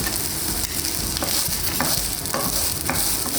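Chopped peppers frying in a pan over medium heat for piri piri basmati rice, a steady loud sizzle with a few stirring scrapes and clicks, close and continuous.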